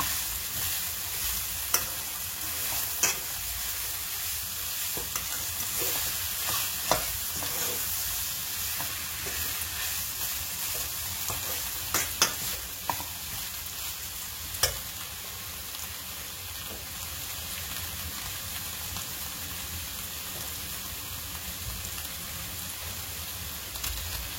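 Minced onion sizzles steadily in a hot pan for a goat colombo, with a continuous fry hiss and occasional sharp scrapes and clicks of stirring standing out against it, no voices over the cooking.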